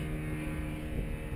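A paramotor engine drones steadily in flight over a school airfield, a loud continuous buzzing tone with no gaps.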